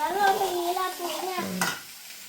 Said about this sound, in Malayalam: എന്നാ ഇളക്ക് അല്ലെങ്കിൽ അത് അടിയിൽ പിടിക്കും